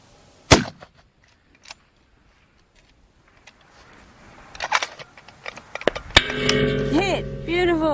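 A 7mm Rem Mag rifle fires at a long-range target, a single sharp, loud crack near the start followed by quiet, then rustling and clatter as people talk.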